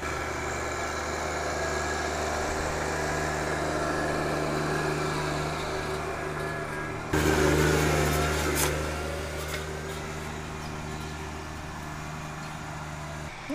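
A compact tractor engine drones steadily while pulling a soil pulverizer to level tilled ground, a low, even hum with a brief louder surge midway, no voices.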